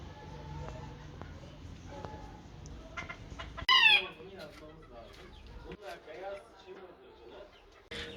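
Chickens cluck and mutter nearby, with one loud, sharp squawk partway through and a person's voice faintly in the background.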